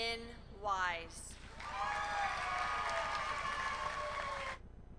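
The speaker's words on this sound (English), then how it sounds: "Let's have another round of applause for the class of 2019." Applause fills a high school graduation ceremony for the class of 2019, following a voice reading names over a PA, with steady crowd clapping sustained for about three seconds before stopping.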